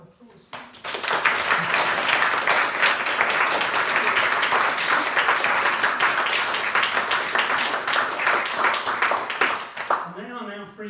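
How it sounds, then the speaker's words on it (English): A roomful of audience applause for a team of interns at an academic event, clapping starting abruptly, staying dense and steady for several seconds, then stopping as a voice begins to speak. "I just want to give them a round of applause"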